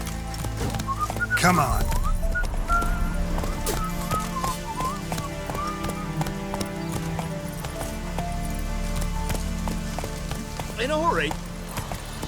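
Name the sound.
horse galloping, clip-clop hooves, in The Witcher 3 video game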